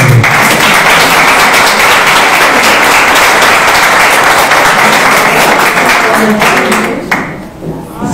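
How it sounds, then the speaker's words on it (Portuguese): An audience applauds after a talk on grief with loud, dense, sustained clapping that thins out and fades near the end. "mais uma salva de palmas"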